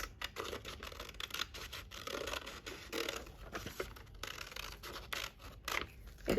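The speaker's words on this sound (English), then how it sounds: "So cut along the lines." Scissors cut paper along drawn lines, a quiet, continuous crisp snipping and rustling close by, with no voices.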